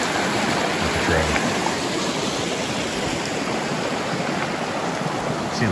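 A creek flows along a Pacific Crest Trail hike in a steady, full rush of water that is close and continuous, with no talk over it.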